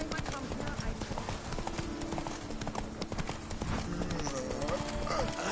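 Horse galloping in The Witcher 3: a continuous, rapid clip-clop of hooves stays close and steady throughout, with voices talking over it.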